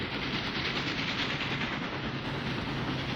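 A steam-era goods train runs along the rails near the village station at Islip, Oxfordshire, giving a steady, close, continuous rumble and rattle of wheels and wagons with no voices.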